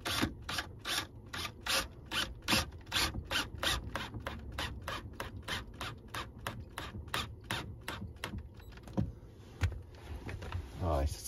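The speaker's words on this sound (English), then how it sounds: "so I'll put the screw in and I'll have a look." A screwdriver drives a screw into a sliding door pocket being fitted in a Ford camper van, giving a close, steady series of rapid ratcheting clicks and rubbing grinds.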